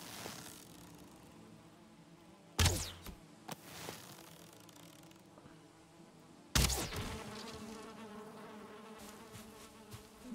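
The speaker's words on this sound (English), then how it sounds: "Yo, bees do not mess around." Bees in the video game Valheim buzz in a steady low drone, broken by two sudden loud impacts and some scattered clatter.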